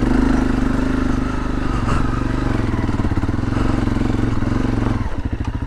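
A Honda CRF250 dirt bike picking its way slowly downhill on a trail with the clutch slipped, its single-cylinder engine holding a steady, close, low putter that wavers slightly before a brief, choppier stutter near the end.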